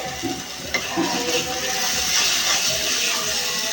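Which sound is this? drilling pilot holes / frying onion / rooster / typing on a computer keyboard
frying onion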